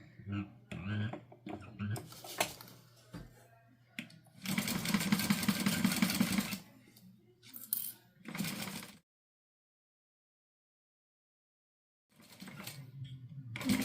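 A sewing machine stitches fabric in short bursts, its fast rhythmic whirring rising and stopping between pauses, with a voice talking close by and a stretch of near silence.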